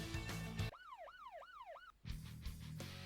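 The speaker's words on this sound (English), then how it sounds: "Fire up the siren." A police car siren in the game Max's Big Bust wails loudly in repeated rising and falling sweeps for about a second and a half, framed by louder driving noise before and after.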